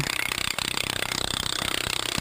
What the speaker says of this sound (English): The machine always turns clockwise and I've put my right foot forward on the shaft to keep the core bit aligned